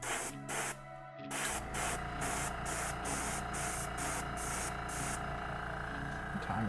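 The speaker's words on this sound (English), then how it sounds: "So they had a 2-stage compressor." A two-stage airbrush air compressor with a tank runs steadily and loudly, a continuous motor hum with a regular pulsing beat and hissing air, after a brief pause near the start.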